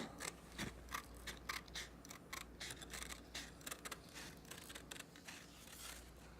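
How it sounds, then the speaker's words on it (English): Quick, repeated snipping of scissors cutting out a paper pattern, a steady run of light crisp cuts close by, with no talking. "Now I will take my scissors and I will cut out this pattern."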